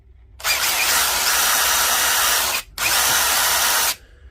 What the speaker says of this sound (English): I've got this DCF887 DeWalt Impact Driver. It's a 3-speed, oldie but a goodie.